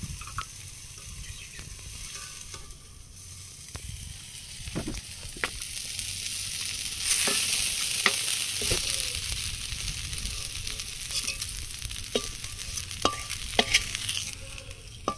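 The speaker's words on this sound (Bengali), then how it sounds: "পাতাগুলো দিয়ে 2 মিনিট ভেজে নিয়েছি, এবার তুলে নেব।" Acacia leaves frying in a pan hiss with a steady sizzle, broken by the scrape and clack of stirring. The sound swells a little midway and carries on alone with no talking.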